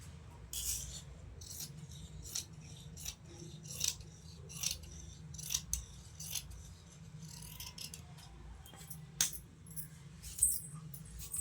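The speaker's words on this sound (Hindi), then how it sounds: "अब हम इसको काट के हटा देंगे।" Scissors cutting fabric for ladies' pants, quiet snipping and sliding blade sounds in irregular bursts, close but faint, with rustling of cloth between cuts.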